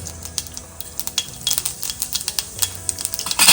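Mustard seeds and cumin hit hot oil in a pan and sizzle close by, with a steady crackle and many sharp pops and spits that come in clustered bursts.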